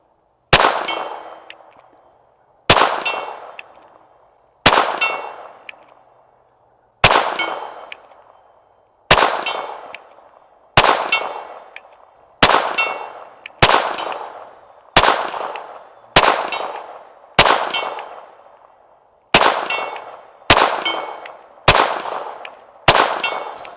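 A Taurus TX-22 pistol firing at a steel target outdoors: fifteen sharp shots spaced one to two seconds apart, each with a ringing metallic clang that decays, some coming in quicker pairs.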